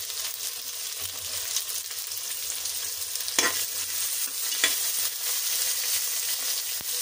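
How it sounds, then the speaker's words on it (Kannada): Chana dal, urad dal, mustard seeds, byadgi chili and a little garlic frying in hot oil, a steady bright sizzle with occasional spoon scrapes against the pan, no voices. "ಕಡಲೆಬೇಳೆ, ಉದ್ದಿನಬೇಳೆ, ಸಾಸಿವೆ, ಬ್ಯಾಡಗಿ, ಸ್ವಲ್ಪ ಬೆಳ್ಳುಳ್ಳಿ ಚೆನ್ನಾಗಿ ಫ್ರೈ ಮಾಡ್ಕೋಬೇಕು"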